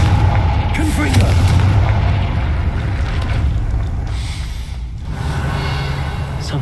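A Confringo spell blast in Hogwarts Legacy, a loud sustained booming roar with heavy low rumble that fills the whole stretch, fading slightly near the end.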